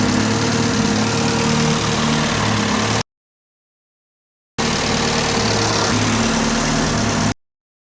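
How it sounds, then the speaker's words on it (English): A Honda CRX engine idles steadily at close range with fresh spark plugs, a constant mid-low hum running in two separate stretches broken by a gap of silence. "the CRX seems to be running good enough"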